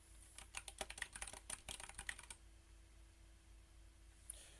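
Rapid irregular clicks of keys typed on a computer keyboard during work on a chess game program, close and fairly quiet, ending in a pause with faint room noise.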